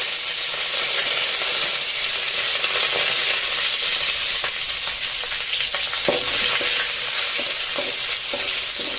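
Chopped onions with garlic and curry leaves fry in hot oil, a loud steady sizzle with scraping spatula strokes and occasional clinks of stirring throughout.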